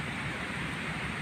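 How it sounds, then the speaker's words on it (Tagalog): Heavy rain pours down in a steady, dense hiss that fills the whole moment without pause, loud and close, with no voices. "Pero ayan, biglang bumuhos ng malakas na ulan."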